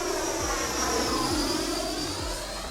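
A 90mm electric ducted-fan FMS Avanti RC jet roars steadily in flight, a continuous rushing whoosh with a thin high whine that stays loud and even throughout.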